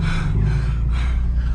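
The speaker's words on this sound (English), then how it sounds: "He can tell by my heavy breathing." Close, loud, heavy breathing with a gasping rush of air, ragged and breathy over a low rumbling background, inside a Genesis G70 with a JB4 tune.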